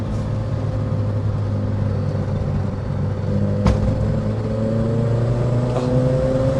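A Peugeot 309 GTI drives along a bumpy, wet country B road, its engine droning steadily from inside the cabin with a rising pitch as it accelerates and a sharp knock from a bump partway through.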